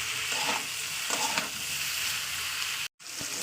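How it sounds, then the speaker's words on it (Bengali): Green beans stir-fried in fish oil sizzle steadily in a pan, with scraping stirs of a utensil repeating throughout and a brief silent cut near the end. "তো চলুন এবার এটাকে ভালো করে ভাজা করে নেবো।"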